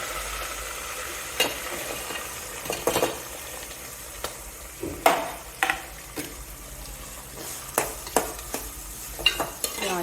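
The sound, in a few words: onions frying in pan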